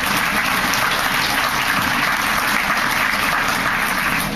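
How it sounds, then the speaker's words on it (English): A campaign-event audience in Chariton applauds a Lucas County organizer: dense, steady clapping that fills the room without a break and with almost no talk. "I want everybody to give her a big round of applause"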